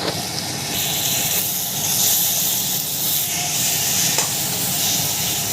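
Chopped tomatoes go into a pan of spices frying in oil with turmeric and dried chilli powder, a steady loud sizzle and hiss with stirring scrapes, close by and alone throughout.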